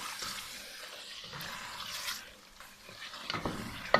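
Ginger garlic paste fries with mutton in a pan for Shinwari mutton pulao, giving a steady sizzle with stirring scrapes and clatter throughout and no talking.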